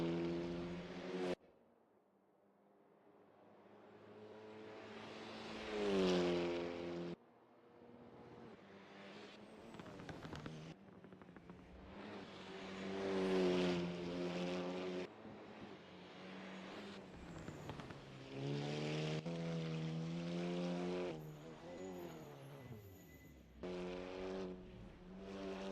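Polo Supa Cup race cars on a practice out lap at East London Grand Prix circuit, engines revving and shifting through gears as cars pass one after another, rising and falling in pitch, with no talk.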